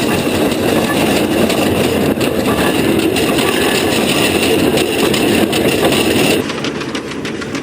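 A 1904 McLaren steam traction engine weighing about five tons runs close by, with a loud, continuous chuffing and mechanical rumble that eases slightly near the end.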